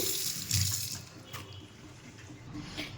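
Water runs steadily from a kitchen sink tap while dishes are washed, a continuous splashing stream with small fluctuations and no talk.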